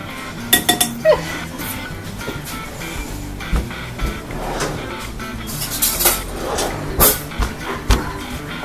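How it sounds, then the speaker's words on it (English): Spoon scraping around the inside of a bowl, close up, with scattered clinks and dull knocks between rasping scrapes, no talk. "I'm going to kind of scrape this a little. I feel like a regular spoon would work better"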